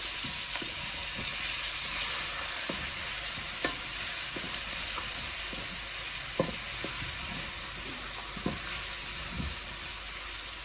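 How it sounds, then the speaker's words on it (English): Chopped onion and tomato sizzle steadily in a pan while being cooked for a Moroccan vegetable couscous, with a constant frying hiss and occasional scraping stirs. "onion, it mix it like 5 minutes. After I can put the tomato."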